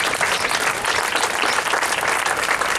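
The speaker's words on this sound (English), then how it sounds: "So I'd say give yourselves a round of applause" Audience at an elementary school time capsule opening gives a sustained round of applause, dense steady clapping filling the whole stretch without a break.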